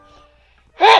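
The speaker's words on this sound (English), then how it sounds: "hold on a second, I sneeze." One sharp, loud sneeze bursts out close to the microphone during a gaming podcast, following a brief quiet stretch with faint background hum.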